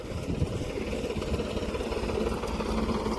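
A tractor engine runs steadily out in a paddy field during rice planting, a continuous low rumbling drone at moderate distance with no break or change in pace.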